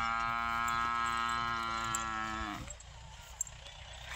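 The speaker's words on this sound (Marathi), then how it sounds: "दिसल्यापासून म्हशी वरडायला लागले ते." Buffaloes on a farm bellowing: a long, loud, low moo holds steady for about two and a half seconds, then breaks off into quiet outdoor background.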